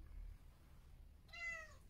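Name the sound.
cat meowing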